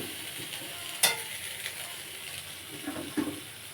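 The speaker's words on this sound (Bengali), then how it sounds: "মশলাটা আবার কষিয়ে দেবো" Spice paste with turmeric and ground ginger sizzles quietly in a pan for fish curry, a soft steady fry broken by a couple of sharp stirring clinks.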